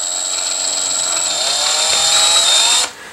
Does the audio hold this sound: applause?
no